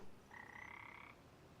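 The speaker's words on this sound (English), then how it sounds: "the frogs are pretty freaking loud" Frogs croak in one steady, pulsing call for about a second, moderately loud against a quiet outdoor background with no talking.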